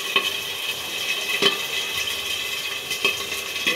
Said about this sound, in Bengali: এবার আমি একটা একটা করে মাছ ছাড়বো তেলের মধ্যে, কেন কি মাছটা খুব ফাটে